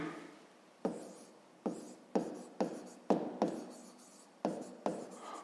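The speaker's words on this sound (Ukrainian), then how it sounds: "Давайте так і запишемо." Pen strokes on paper while working out a fifth-grade math exercise, heard as a series of about ten short scratchy bursts, each with a sharp onset and quick fade, close and clear with no talk.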